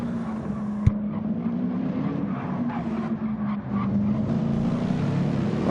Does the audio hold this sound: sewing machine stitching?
no